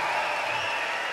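A crowd applauds both female fighters after a boxing bout, a steady dense wash of clapping and cheering that holds at an even level throughout.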